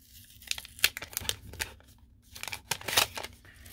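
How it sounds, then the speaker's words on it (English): A small paper card envelope is torn open in a run of close, crisp ripping and crinkling bursts with brief pauses between them. "Open the little card envelope."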